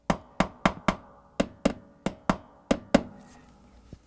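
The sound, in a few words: hammer knocking metal bracket into place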